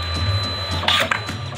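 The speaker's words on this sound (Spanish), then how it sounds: "Van a salir tres impresiones de. Bueno, nada más. Rollos del rollo en blanco." A printer at a quinceañera party venue runs test prints on a blank roll, giving a busy mechanical whirring and clicking over a steady hum of background room noise.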